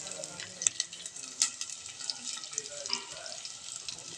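Chopped onion sizzles softly as it is sautéed in a pan, a faint steady frying hiss with a few sharp clinks of a spoon against the pan.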